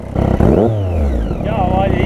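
A Triumph Daytona 675 motorcycle without its stock silencer revs close by, a loud raspy engine with rising and falling pitch sweeps over a rapid firing pulse, while people talk over it.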